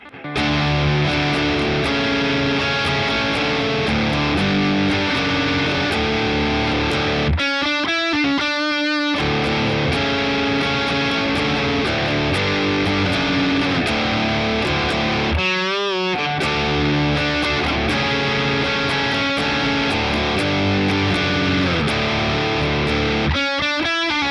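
A distorted electric guitar plays a steady chorus riff with sustained chords, broken by a few brief palm-muted or choppy breaks, loud and without any voices.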